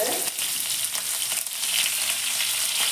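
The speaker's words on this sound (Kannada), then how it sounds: "ಎಣ್ಣೆ ಬಿಸಿ ಬರ್ತಾ ಇದೆ ಇದಕ್ಕೆ ನಾನು ಕಾಳನ್ನು ಹಾಕೋತೀನಿ ಹಾಗೆ ಜೀರಿಗೆನೂ ಹಾಕ್ಕೋತಾ ಇದ್ದೀನಿ ಕರಿಬೇವಿನ ಸೊಪ್ಪು" Mustard seeds, cumin and curry leaves hit hot oil in a close, loud, continuous sizzle with a crackly edge and faint stirring scrapes, with no voices.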